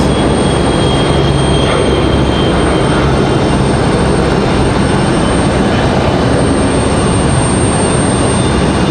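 A plane passes over Raleigh Durham International Airport in the evening as a loud, continuous broadband roar that stays steady and close for the whole stretch, with no talking.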